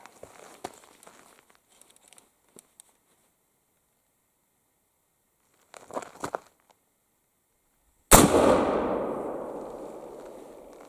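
An American-made mid-1800s tradegun fires a single loud, sharp shot near the end, followed by a long fading echo, after a stretch of faint handling clicks and rustles.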